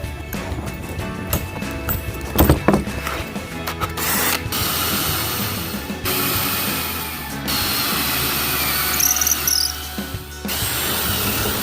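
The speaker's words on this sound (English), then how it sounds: "maybe drill out some of this old wood here." A power drill whirs and grinds into old wood, loud and close, running in long bursts with brief pauses and a rattling ratchet-like chatter at the start.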